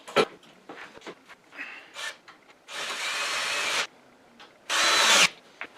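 A handheld power tool tightens hose clamps in short bursts, two longer buzzing whirs of about a second each standing out among brief clicks and handling knocks at close range.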